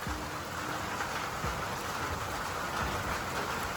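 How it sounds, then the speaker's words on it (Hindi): Steady rain hisses down continuously, a dense, even patter close by with no voices. "बारिश शुरू हो गई है"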